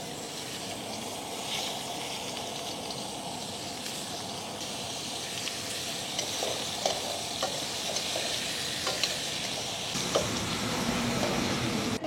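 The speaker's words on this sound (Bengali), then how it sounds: "বন্ধুরা মাছ ভাজা হয়ে গেছে," Pieces of fish fry in a pan over a wood-fired clay stove, a dense, continuous sizzle heard up close for several seconds with occasional scrapes and clinks of stirring, no talking.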